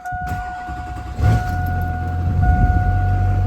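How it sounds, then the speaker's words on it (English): A 1999–2006 Chevrolet Silverado pickup engine cranks and catches with a loud surge, then settles into a steady close idle, with a steady electronic chime tone running throughout and no talk. "So you're going to go ahead and start the truck."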